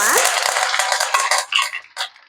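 Mustard seeds and cumin crackle and sizzle in hot oil in a home kitchen, a dense run of sharp, close spatters that thin into scattered pops toward the end.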